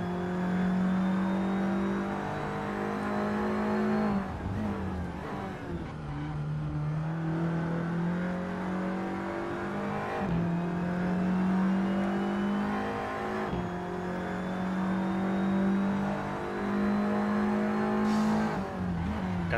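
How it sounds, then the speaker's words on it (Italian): Race car engine of a Renault Clio Cup car lapping the Vallelunga Piero Taruffi circuit in a racing video game, a loud steady drone with repeated rising revs and gear-shift drops, alone without talk. "Un religioso silenzio per goderci questo circuito Piero Taruffi di Vallelunga in macchina con Zeni."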